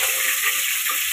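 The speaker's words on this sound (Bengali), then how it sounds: "এই যে চিকেন ভাজা হচ্ছে, একদম হালকা করে ভেজেছি।" Chicken pieces fry lightly in a pan of hot oil, giving a steady, close, hissing sizzle with no voices.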